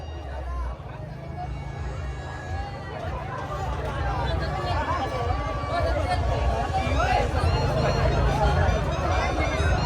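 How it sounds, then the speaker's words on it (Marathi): A crowd of boys cheers and shouts at a Raibadevi temple fair procession in Rave, a steady loud babble of voices and chatter rising slightly over the whole stretch, with police present. "पोलिसांचा फुल सपोर्ट आणि पोरांचा जल्लोष बघा"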